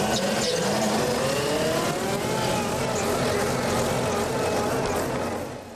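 A tractor engine revs hard and steadily, loud and close, its roar rising and holding with a rough mechanical drone before easing off at the end.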